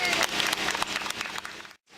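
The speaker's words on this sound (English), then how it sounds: "how about a round of applause for Atka" An audience at a L'Oreal dog performance event applauds Atka the dog, a dense burst of clapping and crowd noise that breaks off abruptly near the end before resuming faintly.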